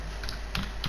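Code being typed on a computer keyboard, a quick run of a few close key clicks over a steady hum.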